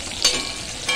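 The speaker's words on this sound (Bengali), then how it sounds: "এবার ওই তেলেই পেঁয়াজ কুচি দিয়ে দেব" Chopped onions hitting hot oil left over from frying fish, a brief soft sizzle with a couple of sharper bursts of spattering.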